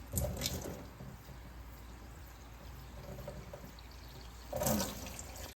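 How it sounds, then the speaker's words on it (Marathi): Boiled sago being washed in cold water, with soft running and splashing water throughout and two louder splashing bursts at the start and near the end, quiet and close, with no talk. "उकडलेला साबुदाणा जो आहे ना तो आपल्याला थंड पाण्याने धुवून घ्यायचा आहे"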